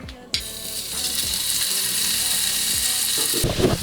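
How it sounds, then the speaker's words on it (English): Steak hits a hot pan and fries, a steady loud sizzle building after an initial clatter and continuing evenly, with a rougher burst of sizzling and handling noise near the end. "Now we add the steak to this pan."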